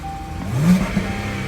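Jaguar F-PACE engine revving, with a brief rising swell and a couple of crackling exhaust pops, heard close without talk.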